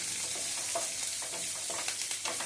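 Onions and green chillies fry in oil with cumin in a pan, giving a bright, steady, close sizzle with scattered crackles and brief stirring scrapes, no talk.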